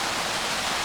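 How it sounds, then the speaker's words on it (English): A waterfall at a fall festival theme park, a loud, steady broadband rush of falling water that fills the short moment without any break or change. "Look at another wonderful waterfall."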